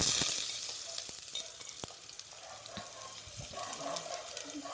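Garlic sizzles steadily in hot oil in a pot, a close crackling fry with occasional clinks of stirring.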